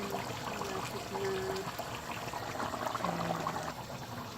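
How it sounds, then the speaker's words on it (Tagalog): Boiled rice for chicken biryani drains in a home kitchen, water trickling and pouring steadily at low level with faint background sounds. "yan na yung rice na drain na"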